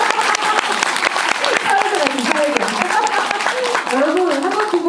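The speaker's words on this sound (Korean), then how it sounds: "큰 박수 부탁드립니다" Audience applauding at a Korean film talk event after a screening, a steady, dense wash of clapping throughout with a few voices calling out over it.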